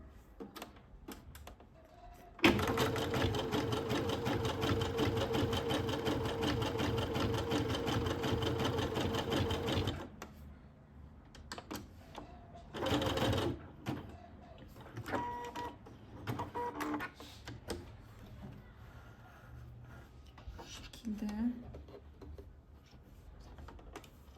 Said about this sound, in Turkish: Şimdi çok geniş ayarda bir zikzak dikiş yapacağım.